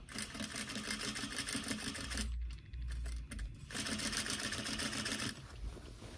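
A sewing machine stitching pattern-matched drapery fabric in a workroom runs in a steady, loud, fast mechanical rattle, pausing briefly mid-run before resuming, with no talking.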